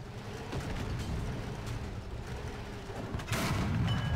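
Tank cannon fire and battle rumble from the War Thunder game, with a Tiger I and T-34-85 in play; a low sustained roar with scattered impacts and a louder blast near the end, no talk.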